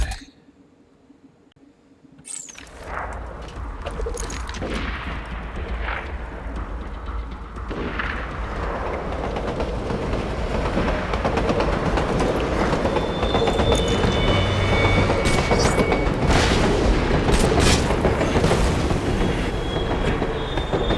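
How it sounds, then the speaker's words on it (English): A payroll train running in the video game Borderlands 2, a loud approaching rumble that builds into steady rolling rail noise with clattering wheels and high metallic squeals, no voices over it. "Payroll train dispatched."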